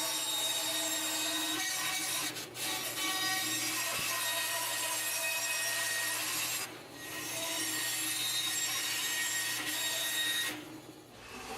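Plywood is cut with a saw while building a homemade table saw: a steady, continuous rasping, grinding drone with a few short dips, fairly close, with no talking.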